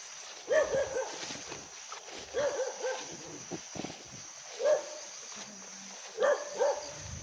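A dog barks several times at a distance, scattered single and double barks against faint outdoor background noise and some shuffling sounds.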